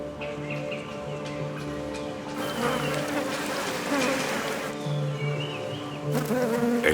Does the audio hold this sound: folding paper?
no